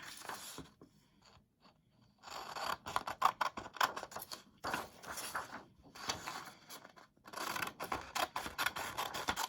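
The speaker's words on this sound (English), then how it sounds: "So let's cut the white paper." Scissors snipping through paper nearby, bursts of crisp cutting and scraping separated by short quiet pauses.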